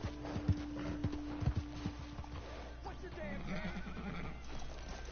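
Horse hooves clip-clopping in Red Dead Redemption 2, a few hollow hoofbeats near the start, then a horse whinny, over steady game ambience with talk in the background.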